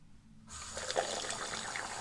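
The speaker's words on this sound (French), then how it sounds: "Donc je vais rincer, je vais voir quel effet ça a." Water runs and trickles steadily as facial cleanser is rinsed off during a natural evening skincare routine, starting abruptly after a brief quiet moment and continuing close by with no talk.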